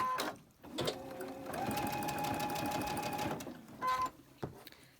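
Sewing machine chain stitching quilt pieces for a table topper, a steady, close rapid whirring run of a few seconds with short starts and stops at either end.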